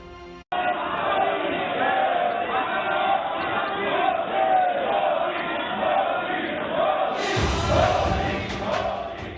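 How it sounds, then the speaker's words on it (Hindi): Members of parliament clapping and chanting in rhythm in the Lok Sabha as the Prime Minister arrives, repeated crowd chants over steady applause that swells near the end. "आज करीब 1 मिनट तक संसद में ताली और मोदी मोदी के नारे सुनाई दिए।"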